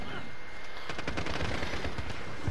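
Rapid gunfire in the video game Rust: a long burst of cracking shots, closely packed and irregular, loudest toward the end, with some voice underneath.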